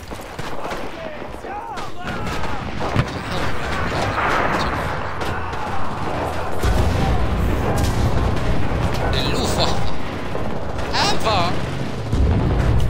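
Artillery cannons fire in continuous loud rumbling booms during World War II combat in the game Enlisted, with dense overlapping blasts and battle noise throughout and an excited voice shouting over them.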